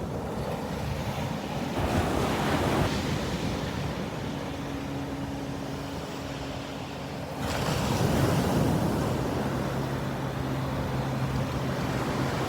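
Ocean waves wash onto a beach in loud, continuous surf with two swelling rushes, heavily buffeted by wind noise on the microphone, and no voices.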